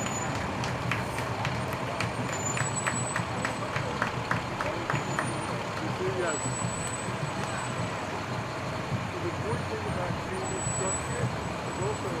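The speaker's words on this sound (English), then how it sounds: "And truck number 56 from North Bennington." Fire truck from North Bennington moving along a Battle Day parade route, low engine rumble beneath crowd noise and an announcer's voice, with a series of rhythmic clattering pulses early on.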